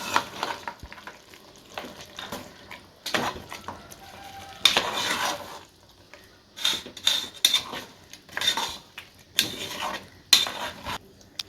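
Spoon scraping and clattering against a pan as ground beef curry paste for Nagpur-style shahi beef tawla is stirred, in irregular bursts of metallic knocks with faint sizzling between them.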